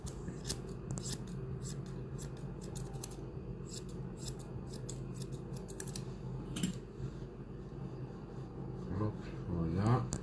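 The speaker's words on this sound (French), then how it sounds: "Donc j'utilise un ciseau droit pour être parallèle au sol, d'accord?" Straight grooming scissors snip quickly and repeatedly through a poodle's coat during a puppy-style show trim, giving crisp close clicks in uneven bursts while a voice talks quietly over them.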